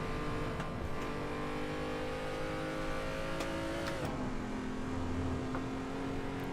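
A race car engine in the Assetto Corsa racing game drones steadily with layered tonal harmonics. It dips in pitch as the car slows into a banked turn, then settles into a lower, even tone, with no talk over it.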